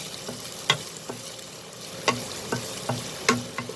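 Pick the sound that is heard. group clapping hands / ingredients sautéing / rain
ingredients sautéing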